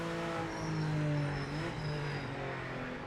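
A racing car in a video game strains against its rev limiter, a loud steady engine drone with a rapid stuttering cut, up close with no talk.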